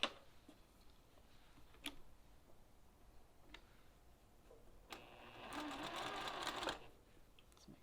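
Sewing machine stitching fabric for 60-degree diamond piecing, faint ticking clicks followed by a short burst of steady stitching near the end, quiet and close.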